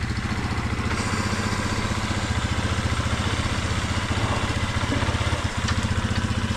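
A freshly revived Adly 100 cc scooter engine runs after starting, a close, loud rapid pulsing idle with a steady rhythmic chug throughout.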